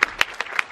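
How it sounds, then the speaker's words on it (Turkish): A few sharp hand claps ring out in quick succession as brief applause for the team that organized a university event at Atılım University. "Bu organizasyonu düzenleyen ekibe de bir alkışlayalım"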